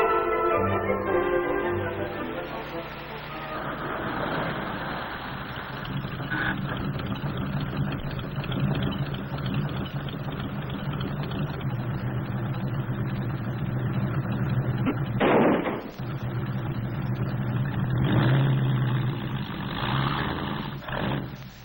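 An old jalopy car engine races with a steady, droning roar that fills the whole stretch at a fairly constant loudness, swelling briefly once midway.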